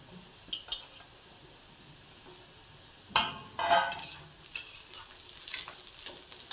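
Coconut, ginger and garlic sautéed in a pan for chana masala, a quiet frying hiss broken by a few spoon clinks and scraping stirs, close and faint, with no talking.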